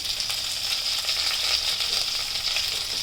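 Garlic, lentils, cumin and coriander seeds fry in hot oil in a pan for a chutney, giving a continuous, even, close sizzle with no talking.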